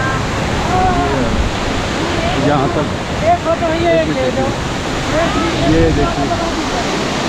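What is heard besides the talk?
waterfall falling on the Madhmaheshwar trek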